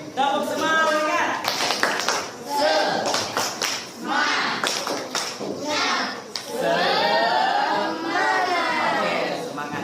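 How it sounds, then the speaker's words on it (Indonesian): A classroom of children chants and claps a rhythmic Indonesian 'tepuk semangat' spirit clap, with sharp hand claps mixed into loud overlapping young voices. "kita tepuk semangat dulu ya. Tepuk semangat."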